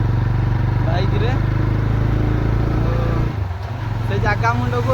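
A motorbike engine runs steadily and close, a continuous low drone that dips briefly partway through and then returns, ridden along a road through a large forest near hills.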